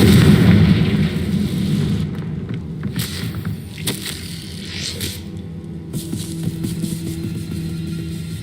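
A Confringo fire-blast spell from Hogwarts Legacy detonates in a loud, broad boom that fades into a lingering low rumble and hum, followed by a few softer pops and crackles.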